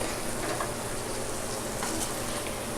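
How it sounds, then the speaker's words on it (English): Steady crackling sizzle of food frying in hot oil, continuous and close, with no voices. "Here is it frying up."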